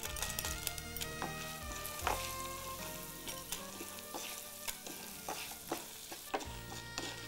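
Buttermilk chillies and manathakkali leaves fry in a pan with a steady, close sizzle, broken by frequent sharp clinks and scrapes of stirring. No one speaks.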